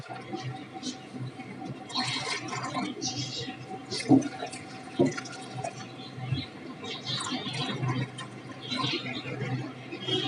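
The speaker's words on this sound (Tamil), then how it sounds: "நான் வந்து இதில் தண்ணி ஊற்ற போகிறேன்" Water is poured into a pot holding a mango seed planted for growing a tree, a soft splashing and trickling fill heard under ongoing speech with a few small knocks.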